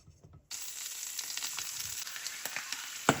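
After a brief quiet moment, a pan bursts into a steady sizzle as mushrooms fry in butter, with small pops crackling through it.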